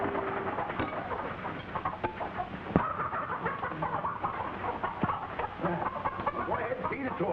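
Chickens cluck and squawk continuously on a farm in a family comedy film, with voices talking over and between the bird calls.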